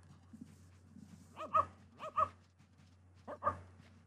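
Dogs in the Petz 4 video game bark in a few short bursts: a faint yip early, then paired barks and a final bark, over a steady low electronic hum.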